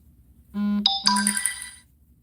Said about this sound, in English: I have to remember to shut off my notifications. You're probably hearing me ding.